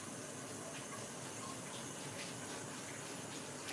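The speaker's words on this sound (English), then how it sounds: "If you hear the sink in the background, he's changing the bong water." A sink tap runs steadily as bong water is changed, giving a continuous faint hiss of flowing water heard from the background, with no speech.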